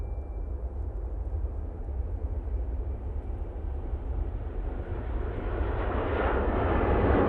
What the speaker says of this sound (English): I'm pretty sure that this Dreamliner is going to get moving